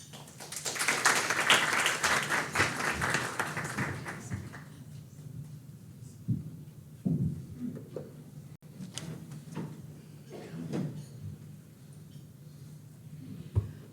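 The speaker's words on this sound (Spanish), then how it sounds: "La recibimos con un aplauso." Audience applause at a conference session on sustainable debt issuance in Latin America and the Caribbean, a dense burst of clapping at the start that thins and fades over several seconds into scattered sounds and a quiet room.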